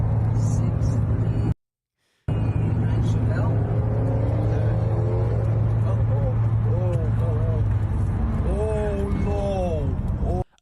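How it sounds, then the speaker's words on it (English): A new age muscle car speeding past, heard as a loud engine drone with rising and falling tones as it goes by, cut by a short silence early on, with a person talking over it. "I'm guessing that this is some sort of new age muscle car, and they tried to flaunt, or they just wanted to pass this thing"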